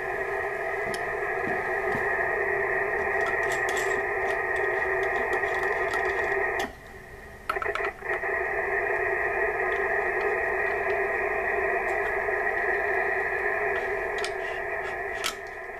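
Steady hiss and hum of 40-metre band radio noise received through a large non-magnetic loop antenna, loud and continuous with a tonal band running throughout, dropping out briefly for a moment midway before resuming.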